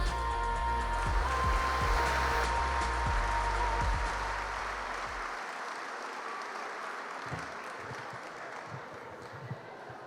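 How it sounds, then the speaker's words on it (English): An audience at an Oklahoma aviation gathering applauds the state director of aeronautics: a broad, moderately loud clapping that holds for several seconds, then thins and fades into scattered claps and room noise. "give a warm round of applause for the State Director of Aeronautics, Grayson Ardes"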